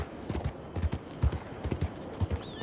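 Horse hooves clip-clop in Red Dead Redemption 2, a quick, uneven series of close, soft thuds over a short stretch, with no talking.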